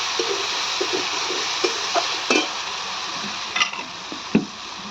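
A ground paste of ginger, garlic, onion and green chili fries in oil with a soft continuous sizzle, broken by several sharp scrapes and taps of a spoon stirring the pan.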